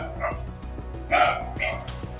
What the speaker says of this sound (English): steady, spaced-out yips cutting through the dark, like a small dog, but somehow wrong.